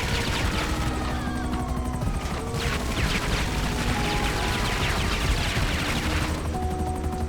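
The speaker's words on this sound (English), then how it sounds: "The cannon, especially on the Savage helicopter, is recommended to take out targets that are on foot, or any ground vehicle." A Savage attack helicopter's cannon fires in GTA 5 in dense, continuous bursts over loud rotor and engine noise, with crashing impacts, and the fire eases off near the end.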